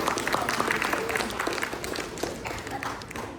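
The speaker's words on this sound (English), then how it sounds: "Let's give them another round of applause." Dense, steady applause from a school comedy-show audience after a Homestead Drama Club performance, full and close, fading slightly toward the end with no voices on top.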